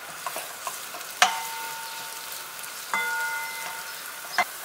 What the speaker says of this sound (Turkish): Önce soğanları çevirelim.